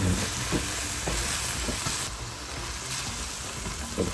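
Spice masala frying with a little water for bhindi keema, with oil separating out, giving a close, steady sizzle broken by several scraping stirs of the spoon.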